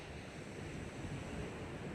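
Ocean waves washing onto the beach at Garden City, South Carolina, a steady, low broadband roar with wind buffeting the microphone, faint and continuous with no distinct breaks.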